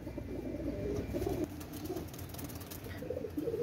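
A male Royal Teddy pigeon gives soft, low cooing in repeated short phrases. The calls are faint against a quiet room background.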